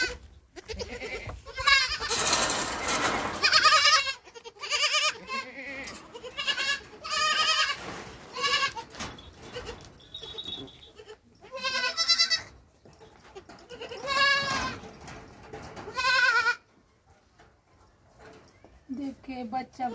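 Goats bleating repeatedly at close range in a milking area, the cries coming in uneven bursts and varying in pitch, with people talking among the calls.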